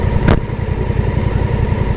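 A motorcycle engine idles with a steady low throb close by, broken once early by a short sharp burst of noise, no talking.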